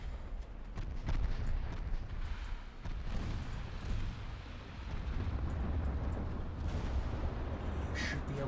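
Naval guns firing in the video game Ultimate Admiral Dreadnoughts, with a series of deep booming blasts and rumbling reports over several seconds, heavy and continuous, with no talking.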